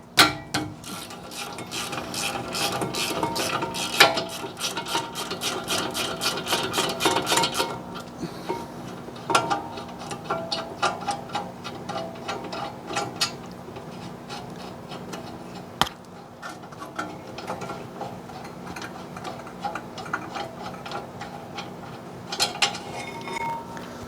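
Ratchet loosening 19 mm caliper bracket bolts on a Honda Pilot's front brakes, with rapid clicking bursts of the pawl in several runs separated by pauses, close and fairly loud, with no talking.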